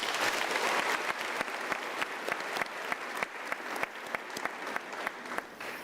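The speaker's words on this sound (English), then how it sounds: "Can we give a round of applause" An audience at a university graduation ceremony applauds, a dense steady wash of clapping that gradually thins into fewer, sharper individual claps toward the end.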